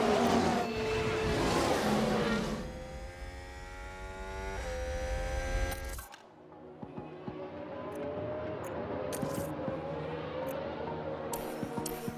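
Racing cars from the video game F1 Manager 2022 roar and whir as they battle for position, engines revving with rising pitch, loud and continuous before easing into a lower, steadier drone.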